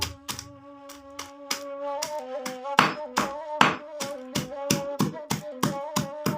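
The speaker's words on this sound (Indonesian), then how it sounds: "Tumbuk sama palu-palu sampai hancur. Ya, pukul seperti ini." A hammer pounds something until it is crushed: a fast, steady run of close, sharp blows over a constant tonal hum.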